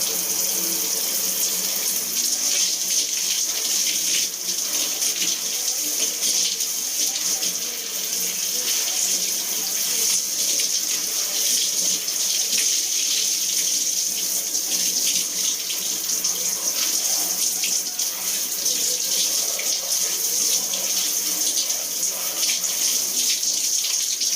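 Water runs steadily and continuously from a shower in a Japanese quarantine hotel bathroom, a constant hissing spray with no pauses, fairly close and uninterrupted throughout.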